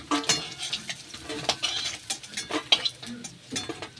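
Pieces of shol (snakehead) fish frying in oil in a pan, with a soft sizzle broken by repeated close clinks and scrapes of a utensil against the pan in an uneven rhythm.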